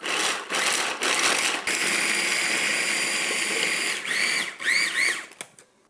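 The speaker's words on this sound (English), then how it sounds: "we're gonna mince it all in a food processor. And let's pulse it." Food processor pulsing to mince fresh garlic, several loud whirring bursts of the motor with short pauses between, one long run in the middle, then quick pulses that wind down to quiet.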